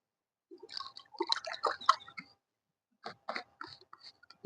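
Someone swallows a tablet with water, with small close wet gulps and mouth sounds in two short bursts separated by a pause, quiet and alone.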